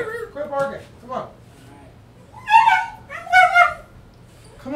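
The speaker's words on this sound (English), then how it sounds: "Hey, quit barking." A dog gives short yips and then several higher whimpering whines, close to the microphone and moderately loud, with a voice speaking in between.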